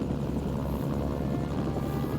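Helicopter in the video game Mercenaries: Playground of Destruction: a loud, steady rotor and engine drone with a fast throbbing chop, continuous and close.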